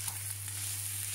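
Garlic and large shallots stir-fried in a pan for a chili paste, a short, quiet, steady sizzle under a constant low background hum.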